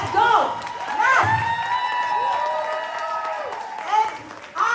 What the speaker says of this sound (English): So, I will ask you to stand up and really give me an applause.